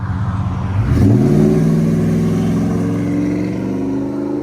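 A 2000-2005 Ford Excursion 5.4L V8 with a Flowmaster 50 Series exhaust revs once near the start, its deep rumble climbing sharply and then holding a steady, loud drone as it settles.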